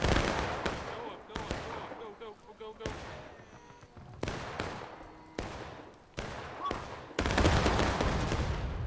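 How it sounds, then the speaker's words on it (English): Volleys of musket fire ring out in a War of Rights Civil War battle at Pry House, several sharp cracks and sustained crackling bursts, loud and close, with a dense roll of massed fire near the end. "Here comes another pop volley"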